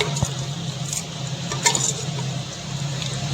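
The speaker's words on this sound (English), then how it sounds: "we are going to stir it again, stir lightly and mix and allow this mix to cook." A cooking mix is stirred lightly in a pot for an ancient Indian dish, giving soft, steady scraping and swishing with a few light metallic clinks, close and continuous.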